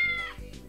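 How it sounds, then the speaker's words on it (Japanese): A cat in a dating video game gives a single short, close meow that rises and falls in pitch. "でも確かに猫の声が聞こえたんだけど。"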